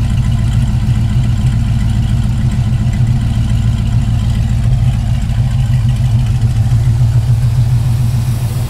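A steady, loud, deep idle rumble from the exhaust of a Chevrolet Camaro with a mild cam, heard from behind the car, holding an even lumpy pulse with no talking over it.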